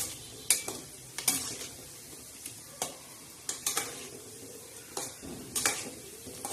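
Wheat-flour modak roasting in ghee and oil, a soft continuous sizzle broken by irregular sharp scrapes and taps of a utensil against the pan, close by and without speech.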